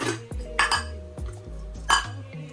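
Metal pots and pans clank and clink in a home kitchen while Nigerian moi moi and custard are prepared, a few sharp knocks and scrapes close by, with no talk.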